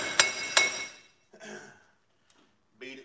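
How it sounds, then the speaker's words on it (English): Two sharp metallic hammer blows ring out on a wheel hub assembly of a 2007-2013 GMC Sierra or Chevy Silverado, close and loud, each followed by a decaying ring, then quieter shuffling and a brief clatter. "So we're gonna have to take a hammer here."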